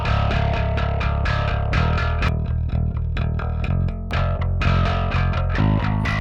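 A guitar DI signal runs through FabFilter Saturn set as an aggressive amp-style distortion focused on the mid-range, playing a continuous, dense riff of rhythmic chugging notes with bright, gritty overtones, loud and alone.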